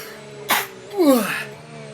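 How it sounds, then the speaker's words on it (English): A single close sneeze: a sharp, quick intake burst followed by a louder voiced explosion, then quiet. "I'm going to just sneeze very quickly."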